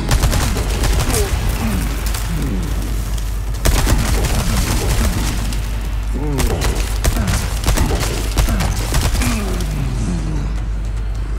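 Rapid, loud gunfire in Resident Evil 4 Separate Ways: dense bursts of repeated shots crack one after another almost nonstop, with short gaps and booming impacts mixed in.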